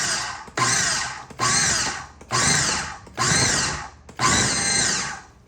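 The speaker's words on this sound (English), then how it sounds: "basically just going to be pulsing this a few times to coat that butter with the initial flour" Food processor pulsing butter and flour for pie crust dough, six short loud whirring bursts in a steady rhythm with brief silent gaps between them, close up.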